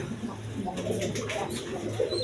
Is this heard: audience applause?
no